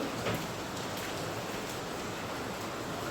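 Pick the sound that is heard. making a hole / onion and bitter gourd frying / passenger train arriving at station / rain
rain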